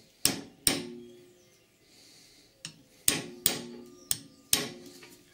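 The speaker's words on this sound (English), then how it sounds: "drift it out with a socket, rest it on the bush and give it a good malleting" A mallet drives a socket against a rear suspension bush on a Triumph Vitesse under renovation, giving sharp metallic strikes close by: two blows, a pause, then a quicker run of five.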